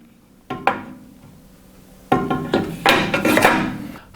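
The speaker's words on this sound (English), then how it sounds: "The rip fence can now be put in position." A metal rip fence is set into position on a Carbatec BS 345H bandsaw table, producing a few sharp metallic clanks followed by a longer stretch of scraping and sliding, close and fairly loud.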